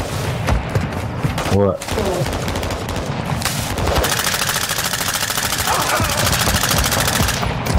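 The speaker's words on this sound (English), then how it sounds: "Taking effective fire." Heavy gunfire in a dense, continuous fusillade with rapid machine-gun-like bursts and sharp reports, loud and close, with a voice briefly speaking over it.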